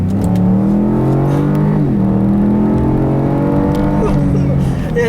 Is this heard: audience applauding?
no